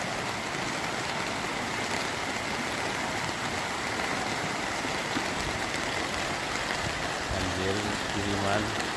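Heavy rain pours down steadily during flooding in Lahat, a dense, constant wash of falling water and rushing runoff, with a voice speaking briefly near the end.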